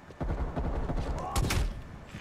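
FAMAS rifle fire in a first-person shooter game, a fast, loud stream of close shots in quick bursts, with a heavier cluster of impacts near the end.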